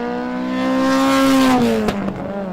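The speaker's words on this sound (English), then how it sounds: "I believe that's Danny just coming onto the front straight now in the MGB GT V8" An MGB GT V8 race car comes onto the front straight, its V8 loud and close as it accelerates, then the pitch drops as the car passes and fades into the distance.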